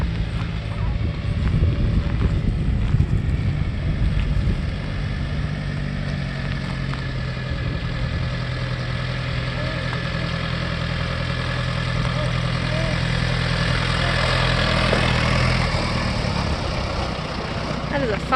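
A tractor engine runs steadily while pulling a disk across ground being prepared for an orchard, a constant mid-pitched rumble with light rattling.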